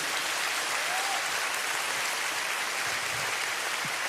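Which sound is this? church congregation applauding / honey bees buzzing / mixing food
church congregation applauding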